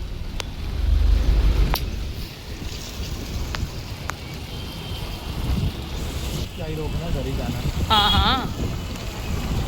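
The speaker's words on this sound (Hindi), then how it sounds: "तो जी भयंकर बारिश आ गई है" Heavy rain pours down outdoors in a steady, dense wash with gusty wind buffeting the microphone, while a voice talks briefly over it.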